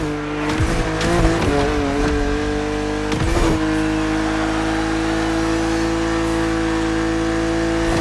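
BMW Z4 E89 race car in The Crew Motorfest, engine roaring loud and steady at high revs with brief tire squeal and gear changes early on, no talk over it.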